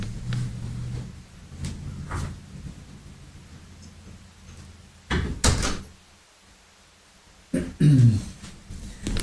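A cat hangs on a screen door and rattles it, making irregular loud clattering bangs and rattles between quieter stretches of background noise, close by.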